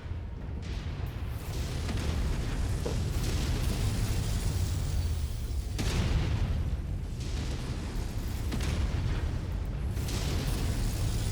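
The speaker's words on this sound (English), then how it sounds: "At least I can hit with the cannon reliable." Mech cannon fire and explosions in the MechWarrior 5 video game, a dense continuous roar of heavy booms with two sharp blasts standing out, loud and sustained throughout.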